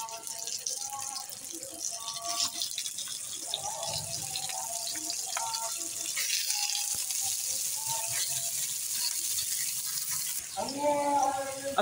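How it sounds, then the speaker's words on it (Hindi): Chicken frying in ghee with spice paste for a chicken masala gravy, a steady close sizzle and crackle running throughout at even loudness, with faint background tones and occasional clinks. "चिकन को फ्राई कर लेंगे साथ जो घी है इसके अंदर"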